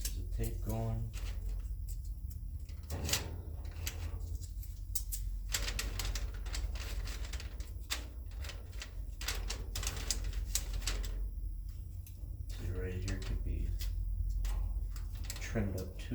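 Metal being cut on the body of a 1951 Ford sedan during custom front-end work, a series of sharp clacking snips and crunches repeating in bursts, close and fairly loud over steady shop noise.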